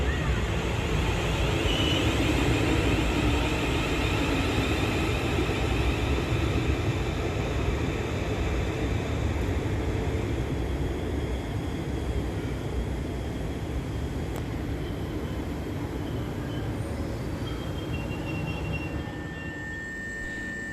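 South Western Railway unit 450094, working the 0753 service from London Waterloo, pulls into Havant station with a loud, steady rumble of wheels and traction that fades slightly toward the end. No voices are heard.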